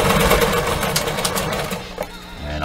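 A sewing machine stitches a beach pillow, running steadily up to the opening with a continuous close, loud mechanical whir that shifts slightly toward the end.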